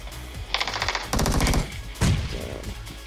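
Machine-gun fire rattles in PUBG on the Erangel map: loud, close bursts of rapid shots in several clusters, one long burst in the middle, and no talking over them.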